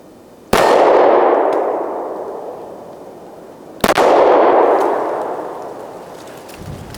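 Two sharp 9mm shots from an M&P Shield pistol ring off steel targets about three seconds apart, each crack followed by a long metallic clang that decays slowly, outdoors with no talk.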